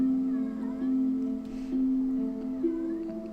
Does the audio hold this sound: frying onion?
no